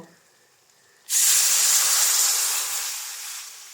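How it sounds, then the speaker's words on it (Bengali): Water poured all at once into fried spice masala for egg bhuna sets off a sudden loud hiss of steam that stays strong for a couple of seconds, then slowly eases off, after a quiet start. "ভাজা হয়ে গেলে এর ভিতরে একবারে পানি দিয়ে দিব"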